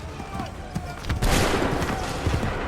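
A volley of musket fire, fired on command in Assassin's Creed 3, bursts out as a loud, dense crackle of overlapping shots, with scattered single reports before and after amid shouted battle orders.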